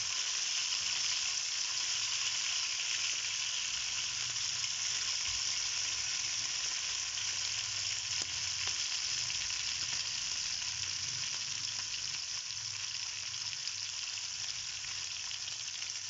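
Chicken drumsticks fry in a pan with a loud, continuous hiss and crackle of hot oil that stays steady throughout, with no talking.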